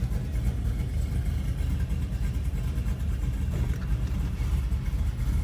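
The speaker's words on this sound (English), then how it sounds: "we're gonna go ahead and try this all-wheel drive burnout" A Chevrolet Camaro's engine runs loud and steady from inside the car, a dense, continuous low rumble during an attempted all-wheel-drive burnout, with no clear rev peaks.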